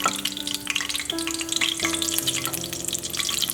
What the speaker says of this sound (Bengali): এবার এই গরম তেলে একই ব্যাটার দিয়ে আমি কচু ভাজবো